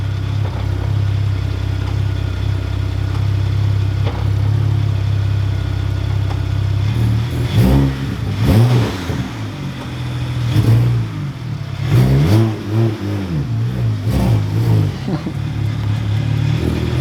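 A BMW E90 335i engine revs up in bursts, rising and falling in pitch over a steady idle, with people talking nearby.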